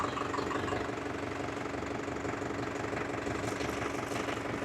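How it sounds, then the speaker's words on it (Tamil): A Farmtrac 6055 WorldMaxx 4WD 55HP tractor engine idles steadily nearby, a continuous low diesel rumble with a faint knocking pulse throughout and no talking. "இப்போ வண்டியோட இன்ஜின் ஆர்பிஎம் பார்த்தீங்கன்னா ஐடியில் இருக்குது"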